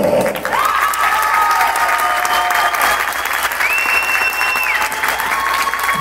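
A circus audience claps loudly and continuously after a show at Circo Atayde Hermanos, with whistles and a few cheers ringing over the steady wash of hands.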